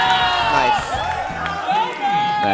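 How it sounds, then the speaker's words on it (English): A Danish crowd cheers and hollers at a fighting-game tournament, sustained loud crowd noise with music or game sound layered underneath and a commentator's voice over it. "And the Danish crowd hyping up their boy."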